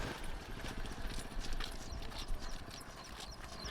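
Horse hooves clip-clopping in a steady, rapid rhythm of many close, loud strikes throughout, with background noise and no clear talk.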